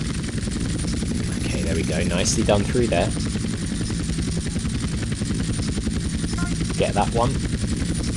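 Helicopter in GTA San Andreas during an airport checkpoint race at Las Venturas, a steady loud rotor and engine drone throughout, with someone talking over it and occasional gunfire-like bursts.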